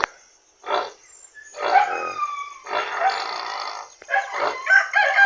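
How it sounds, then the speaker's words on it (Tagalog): Several roosters crow one after another, loud and close, with overlapping calls and short pauses between them. "Kaya dito muna tayo sa ating mga alagang manok"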